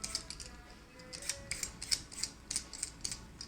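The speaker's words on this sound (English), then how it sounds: "hold it with your left hand, peel with your right hand, and turn as you go" A potato peeled by hand with a small knife, giving a run of quick, close, faint scraping and snipping strokes in an uneven rhythm, with no talk.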